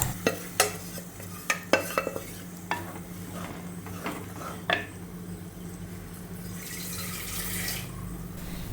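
Cooked lentils for a Kerala-style dal curry hitting a hot pan, with a series of sharp spoon clinks and stirring scrapes early on, then a rising, steady sizzling hiss toward the end.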